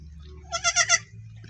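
A young goat bleats once in a short, wavering, quavering cry, fairly close over a quiet farmyard background.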